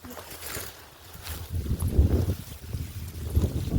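Wind gusts buffet the microphone in low, rumbling surges that rise and fall, growing stronger partway through.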